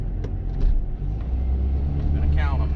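A 1998 Jeep Cherokee XJ engine runs with a low, steady rumble as it is driven through the gears, a close idle-to-rev drone with a voice talking over it.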